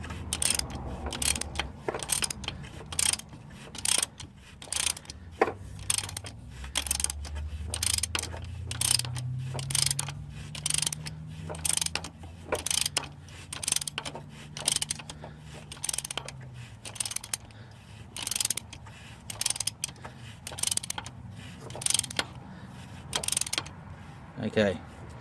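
A ratchet turning a bolt near the mic: rapid clicking bursts repeat in quick strokes over about 25 seconds, with a low mechanical whir rising and falling partway through.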